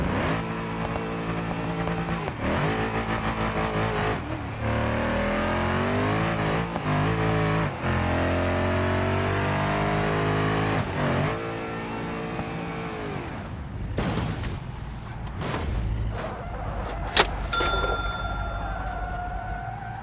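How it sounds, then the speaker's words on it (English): A Toyota Supra engine revs hard in a series of rising and falling pulls, loud and close, then cuts off into a few sharp metallic clanks and dings near the end. "Toyota Supra."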